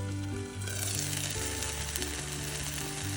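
A chilla cooks in a covered pan, a steady soft sizzle heard up close over a low hum, with faint background music playing throughout.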